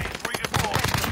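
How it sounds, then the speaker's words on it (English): Rapid bursts of gunfire ring out in an online battle-royale shooter game, a quick run of sharp shots in just over a second, loud and close with no talk over them. "Oh, already getting sniped at."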